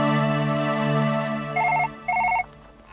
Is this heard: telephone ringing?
yes